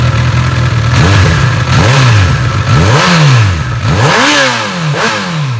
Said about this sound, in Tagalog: let's give it a little bit tip para malaman nyo kung ano yung sound nitong stock exhaust ni Honda